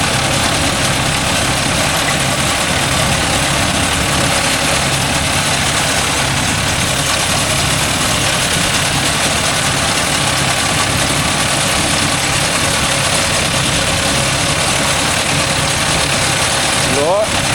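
Mahindra Arjun Novo 605 DI tractor driving a crop cutter through a field, its engine running steadily at 540 PTO speed in a loud, continuous, gritty drone that never lets up.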